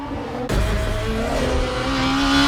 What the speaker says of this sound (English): the whine of the engine as you shift gears